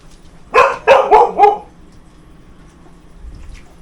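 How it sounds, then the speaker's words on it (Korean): A Jindo dog barks four times in quick succession, loud and close, followed by quiet background. "곰돌이 쉬 조용해 시끄러"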